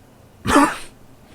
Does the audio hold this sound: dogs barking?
no